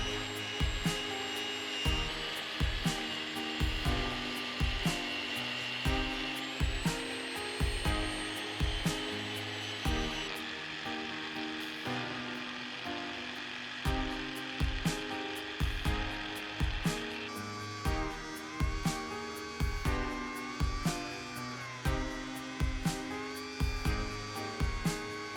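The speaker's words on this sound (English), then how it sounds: "Now it's time to polish the metal, which is another time-consuming task." A power tool polishes a metal knuckleduster with a continuous whirring grind, interrupted by regular rhythmic knocks and taps, steady and moderately close with no speech.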